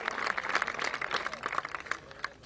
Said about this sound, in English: Taking the applause.